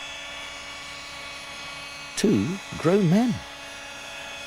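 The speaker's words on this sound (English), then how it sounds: "Two model helicopters." A steady, high-pitched motor whine from small model helicopters hums throughout, while someone speaks briefly over it.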